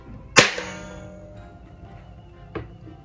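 A MAC 10 BB gun's spring mechanism gives a sharp, loud snap followed by a brief ringing metallic decay, then a second fainter click a couple of seconds later, recorded close in a quiet room.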